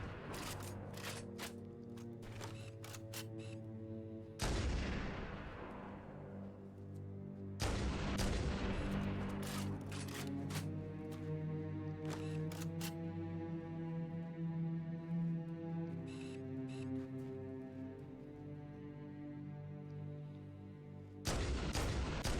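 Sniper rifle fire in the video game Halo: a few loud, sharp reports spaced seconds apart, each leaving a long ringing tail, over busy combat ambience with small clicks and distant pops.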